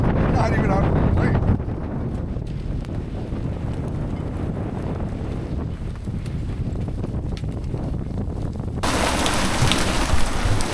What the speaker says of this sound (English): We are getting hail.